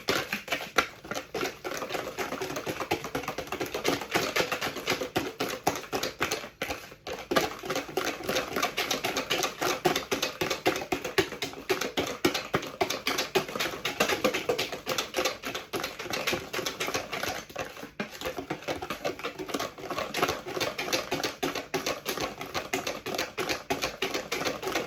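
A hand blender churns muffin batter for Boston crème muffins, giving a continuous rapid rattling whir that stays steady and close for about twenty-five seconds with only brief dips.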